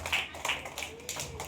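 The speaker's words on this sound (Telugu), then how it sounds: "గట్టిగా చప్పట్లు." Children clapping loudly on cue at a Sunday School camp prize giving, a short burst of quick claps mixed with an adult voice speaking over it.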